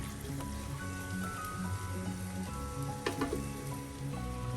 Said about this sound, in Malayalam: മീഡിയം ഫ്ലെയിമിലാക്കി വഴറ്റാം